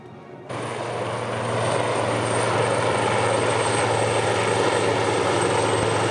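Two helicopters pass over a naval graduation ceremony, their rotor and engine noise cutting in abruptly and swelling into a loud, steady, broadband roar with a low thudding pulse that holds throughout.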